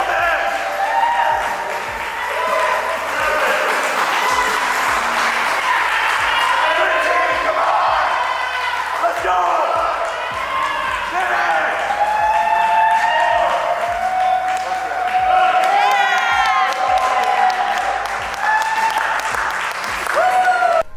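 At a CrossFit competition, a crowd cheers and whoops continuously with scattered clapping and thuds, loud and busy throughout, with voices shouting over the din.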